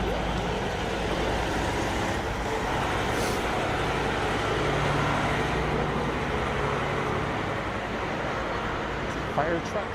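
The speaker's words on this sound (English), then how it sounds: "Fire truck slowly creeping along King." Slow-moving fire truck creeping along King Street in downtown Toronto at night, a low engine rumble within steady city traffic noise, with people talking over it.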